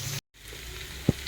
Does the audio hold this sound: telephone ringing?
no